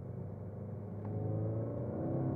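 A 2015 Skoda Octavia RS engine hums steadily from inside the cabin during a test drive, a low rumble swelling slightly as revs rise partway through, with no talk over it.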